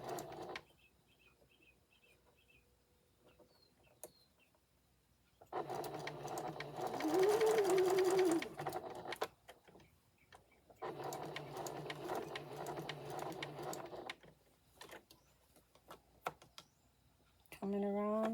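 A sewing machine back stitching the seams of a stuffed memory bear, running in loud whirring bursts of a few seconds each, separated by quieter pauses, with a person talking in between.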